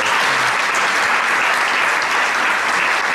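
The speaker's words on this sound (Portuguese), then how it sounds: "Podem bater palmas." A theatre audience applauds steadily at a Portuguese-language book presentation, a dense, even wash of clapping that fills the whole stretch with no voices over it.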